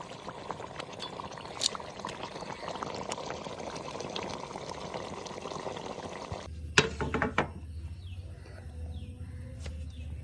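Raw coconut oil poured into a pot of Kerala fish head curry: a soft, steady pour for several seconds that stops abruptly, then a brief clatter and faint bubbling.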